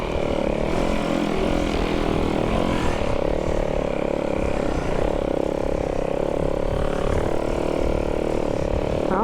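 Kickstarted snowbike engine running steadily at close range, a continuous loud droning hum with a buzzing mid-range tone and no pauses, heard on its own.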